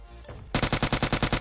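Rapid automatic gunfire in the shooter game PUBG Lite, close and loud, a burst of about eight evenly spaced shots after a brief quiet lead-in.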